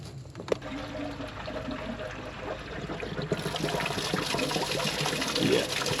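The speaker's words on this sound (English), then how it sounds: "we'll run a flush upwards from the bottom using a hose and we can verify that the radiator's nice and clean and flows freely" Hose water flushing rusty buildup out of an old Chrysler car radiator, a continuous rushing pour and trickle that grows fuller and louder partway through, with one sharp knock near the start.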